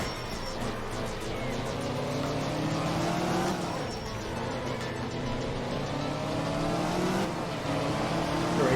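A rally car in the racing game Art of Rally slides loosely on tarmac through tight town corners, its engine revving and droning steadily throughout, rising and falling with throttle, with faint tire scrubbing.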